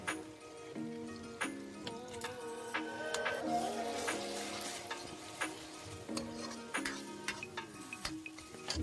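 Spices with coriander powder frying in a pan for Punjabi chole masala, with a soft steady sizzle and light scraping stirs under gentle background music.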